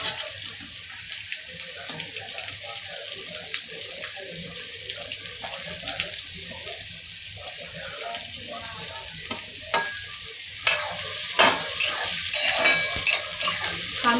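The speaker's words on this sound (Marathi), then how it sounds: "आपण याच्यामध्ये आता कांदा टाकून घेऊया।" Chopped onion sizzles in hot oil with reddened chillies while a spoon stirs it for methi bhaji, a steady frying hiss with scattered scraping clicks that grow busier toward the end.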